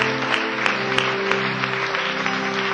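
A church congregation applauds during a worship service, producing a continuous wash of clapping with a few sharper individual claps standing out, set against sustained organ or keyboard tones in the background.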